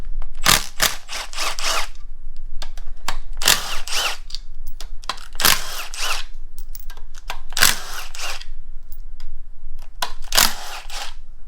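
Ratchet or power tool backing out 10 mm bolts from the timing cover of a 6.0 LS engine during a teardown for a 1955 Buick swap, repeated close bursts of whirring and rattling separated by short pauses.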